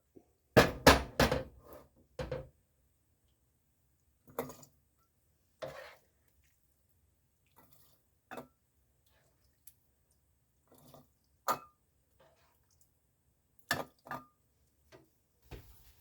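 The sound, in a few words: ladling taco meat into canning jars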